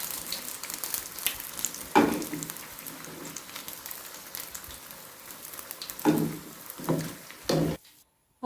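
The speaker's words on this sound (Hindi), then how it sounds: "अब जो बाकी की मिर्चें हैं उनको भी मैं इसी तरह से फ्राई कर लेती हूँ।" Green chili pakoras frying in hot oil, a steady close sizzle with crackling bursts and a few louder stir-like clatters, no talking.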